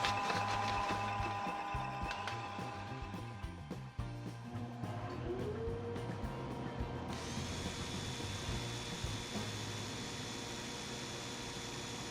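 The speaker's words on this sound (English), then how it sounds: "I'll just use sandpaper to round these shoulders" Sandpaper sanding a spinning padauk wood bowl on a lathe, a steady motor hum with a continuous rough abrasive hiss, close and even throughout.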